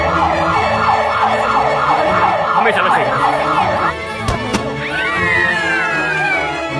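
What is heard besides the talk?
siren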